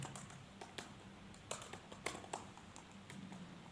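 Rapid, uneven keystrokes on a computer keyboard as an account name and password are typed in, light close clicks with short pauses between bursts and no talking.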